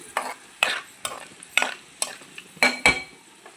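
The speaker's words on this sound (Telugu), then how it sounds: "ఇప్పుడు ఒకసారి పరమాణం తిప్పుకుందాం" Paramannam, a sweet rice pudding, being stirred in a pot, heard as a series of close scraping strokes that come every half second or so, with no talk.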